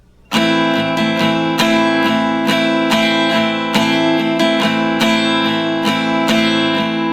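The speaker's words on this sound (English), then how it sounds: "Now when we're just strumming along, it sounds like this." Continuous steady guitar strumming, close and loud, with chords ringing into each other in an even rhythm and regular crisp strokes throughout.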